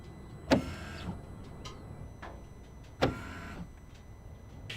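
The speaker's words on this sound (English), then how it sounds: "then dynamic downforce to extend the spoiler" Electric motor whirring as the rear spoiler of a Porsche 992 GT3 RS moves, two short mechanical actuations with sharp onsets and brief whines, separated by quiet cabin background.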